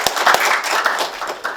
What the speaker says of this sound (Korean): 차관님께도 뜨거운 박수 부탁드립니다.